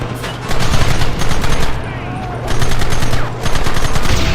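Rapid automatic gunfire from a Red Dead Redemption shootout, loud bursts of fusillade lasting about a second each, broken by short pauses, with game voices shouting over the shots.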